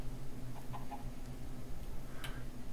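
Fowl in Minecraft clucks in a few short, soft calls over a faint steady ticking background, fairly quiet and with no talking.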